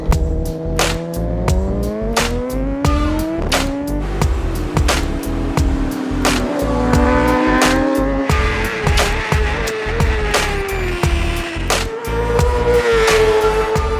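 Superbike motorcycles racing in qualifying at a track in Saint-Eustache, Québec, loud engines screaming and shifting pitch as bikes pass close by in succession, with sharp gear changes and overlapping engine whines.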